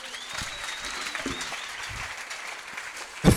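A church congregation clapping during worship, steady light applause with a faint sustained tone and a few louder sounds, ending in a sharp thump.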